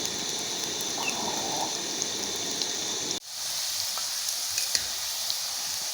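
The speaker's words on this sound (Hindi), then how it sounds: "करेलों को हम फ्राई कर लेंगे।" Bitter gourd pieces frying in ghee in a wok, giving a steady, dense sizzle that holds at one level and drops briefly as the pan is shifted before the crackle returns.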